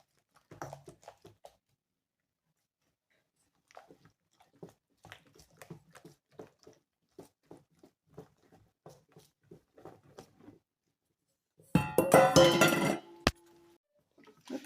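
Pancake batter being mixed in a bowl, heard as faint, scattered light clinks and taps of the utensil against the bowl, followed near the end by a short burst of louder, busier clattering.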